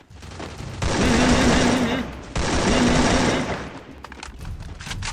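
AK rifle fire in the Free Fire video game: two long, sustained automatic bursts, loud and close, separated by a short pause, followed by scattered quieter shots, with a player talking in between.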